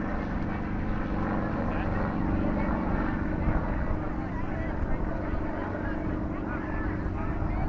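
An unidentified helicopter flies overhead, its rotor and engine drone steady and fairly loud throughout, a continuous churning roar with no break.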